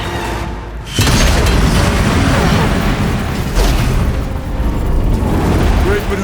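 Heavy booming blasts from explosive ammunition in the action game Horizon Zero Dawn, loud and dense, with a sharp burst near the start and a second surge later amid battle noise and shouting voices.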